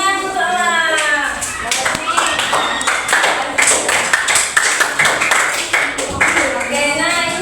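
Schoolchildren clapping hands in a classroom, a run of quick, uneven claps close by, mixed with children's voices and a teacher speaking over them.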